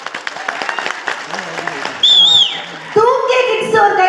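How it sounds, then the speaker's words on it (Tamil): An audience claps at a pattimandram debate event held in Dubai, with dense, continuous applause running throughout and rising louder near the end, while a speaker's voice and other vocal sounds carry over it. "90s கிட்ஸ் மட்டும் ஒரு கைத்தட்ட கொடுங்க பார்க்கலாம்"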